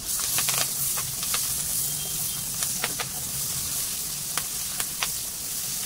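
Onion and curry leaves sautéing in a preheated pan for tomato rice, a steady close hiss of frying with scattered sharp crackles and light stirring, no speech.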